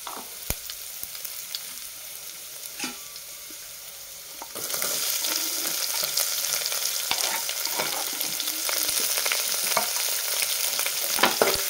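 Garlic and onion hit hot oil in a pan for a Maharashtrian masala rice, the sizzle jumping louder midway as they go in and then frying steadily with occasional stirring clicks throughout, no talking.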